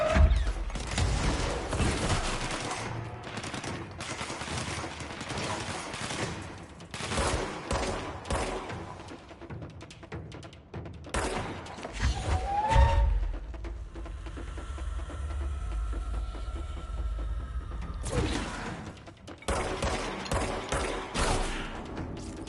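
Gunfire in the video game Control, with bursts of rapid shots and heavy thumps repeating over about twenty seconds, loud and dense among other game sounds, with no talk.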